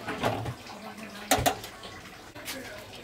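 Cabbage and new potatoes are rinsed under running water in a home kitchen before being fried. Short splashy gushes of water come in a few quick bursts, with some faint kitchen clatter between them.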